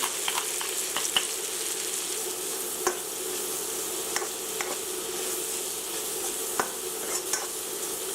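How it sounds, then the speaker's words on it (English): Shrimp seasoned with salt and freshly ground pepper sizzle in a pan for a rice stir fry, a continuous bright crackle with occasional sharp stirring clicks, close and even. "fry up here our shrimp"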